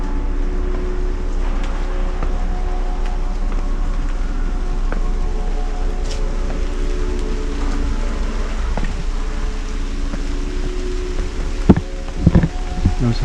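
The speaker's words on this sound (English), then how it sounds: "The rain is starting up again." Steady rain falls around Old Government House Museum on Tortola, a constant soft hiss with scattered drips and a few sharper taps near the end, with no voices.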